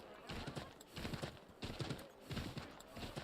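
Horse hooves clip-clop in rhythmic bursts as a horse is ridden in Assassin's Creed 3 Remastered, repeated gallop strides at moderate volume with a faint game backdrop.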